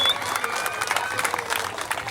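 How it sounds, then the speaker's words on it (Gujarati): An audience at a community cricket tournament presentation claps in a brisk burst of scattered applause, with a voice talking over the clapping and a faint whistle near the start. "એમનો મિત્રો જોરદાર તાળીઓથી આપણે વધાવી લઈએ."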